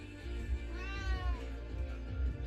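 A cat gives a single faint, drawn-out meow partway through, over a low background hum.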